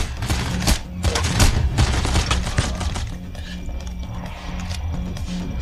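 Gunfire in PAYDAY The Heist during the First World Bank heist, with rapid bursts of automatic shots and a few heavy booms that are loud in the first half and then thin out into sporadic, quieter firing.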